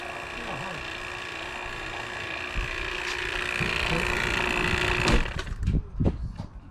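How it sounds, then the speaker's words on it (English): An AC vacuum pump runs on a 2015 car: a steady mechanical hum with a constant whine, close and continuous, then broken by a few knocks and clunks near the end. "So I'm going to turn the pump on. Vacuum for about maybe 30 minutes."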